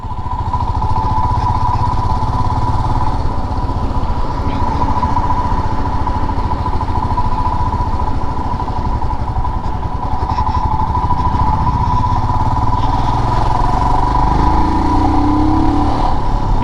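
A Royal Enfield Himalayan BS6 adventure motorcycle on the move, its engine a steady, loud, close drone with a constant hum and little change in pitch, running alone without talk.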